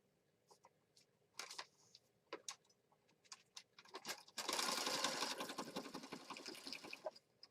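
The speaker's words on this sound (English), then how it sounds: "we're going to stitch across the ends this way and then down the sides." A sewing machine stitches pieces of fabric in a mixed-media craft session. Scattered clicks and handling noises come first, then the motor starts and whirs in a steady, close, fairly loud run.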